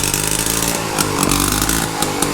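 Two-stroke engine of a rare Honda PA 50 moped running steadily at close range, a loud, buzzy, continuous drone with slight surges in revs and no talk over it.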